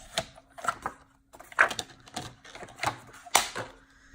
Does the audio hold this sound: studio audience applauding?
no